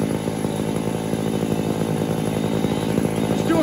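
An old chainsaw runs steadily at high revs while cutting into a tall backyard tree, its engine buzzing loud and continuous throughout with slight load fluctuations and no talking.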